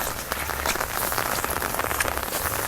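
Steady heavy rain pours during a storm, a dense even hiss with scattered close droplet patters throughout, no voices.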